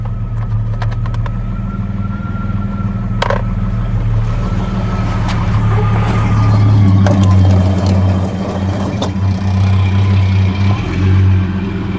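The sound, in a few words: 1989 Jeep Comanche engine running, uneven idle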